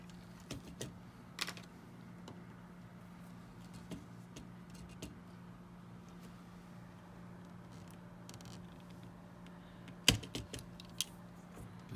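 Needle-nose pliers press and pull plastic factory tabs on a Mavic Air drone, giving sparse faint clicks and small plastic snaps over a quiet hum, with a sharper click near the end.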